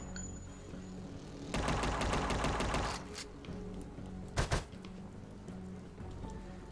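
Gunfire in the video game Unmetal: a rapid, loud burst of automatic fire lasting over a second, followed by a couple of sharp separate shots over a low game backdrop.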